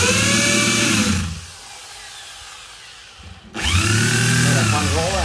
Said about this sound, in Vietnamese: Số 11 là con khoan gỗ hai chức năng